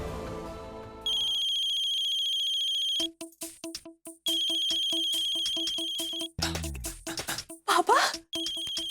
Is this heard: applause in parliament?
no